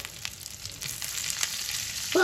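Venison hamburger patties sear in olive oil in a hot pan, giving a steady close sizzle and crackle throughout with a brief louder burst at the end; no one speaks.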